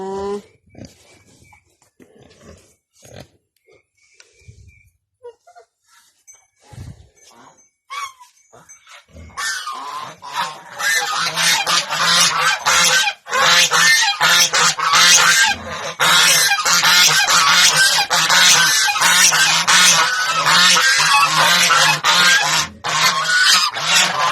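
A flock of geese honks loudly and continuously, a dense, raucous clamor that erupts after a quieter stretch of scattered sounds and brief voices.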